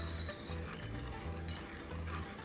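A spoon stirs a sauce of sugar and seasonings for steamed pomfret, with a steady soft scraping and swishing that carries through the whole clip, while background music plays under it.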